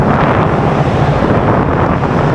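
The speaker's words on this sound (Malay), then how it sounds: "Angin kuat Angin kuat" Strong wind buffeting the microphone on a motorcycle ride, a loud, steady roar that runs throughout with no talking.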